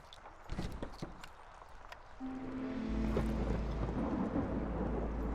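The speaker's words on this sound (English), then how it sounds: "It's a stormy night." A stormy night in a settlement-building game: rain hisses steadily while a deep rumble of thunder rolls in and swells, preceded by a few light taps, with no talking.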